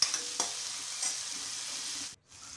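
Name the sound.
onion and tomato sautéing in oil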